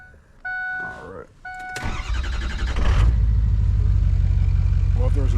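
A Chevrolet 350 V8 cranks over and catches after an oil change, then settles into a steady, loud, close idle with a few brief clicks and tones before it starts.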